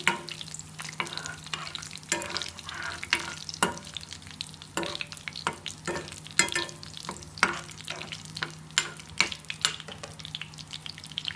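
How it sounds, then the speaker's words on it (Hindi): Spices frying over low heat in a pan for a masala egg curry, with a steady soft sizzle broken by frequent stirring scrapes and clicks of a utensil, close and moderately quiet with no talking. "यहाँ पे इनको हम धीमी आंच पे मसालों को पकाएंगे।"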